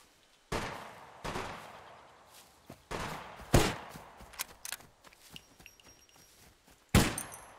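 Several sharp gunshots in a video game firefight ring out in spaced bursts, with a few quieter thuds and clicks in between; one loud close shot lands near the end.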